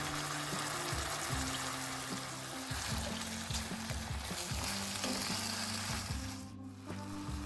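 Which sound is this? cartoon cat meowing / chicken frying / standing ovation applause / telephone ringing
chicken frying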